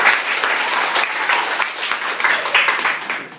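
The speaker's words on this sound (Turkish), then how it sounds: "Alkışlayın kendinize" A classroom full of middle-school children clapping enthusiastically, dense and steady applause lasting a few seconds with small bursts of cheering.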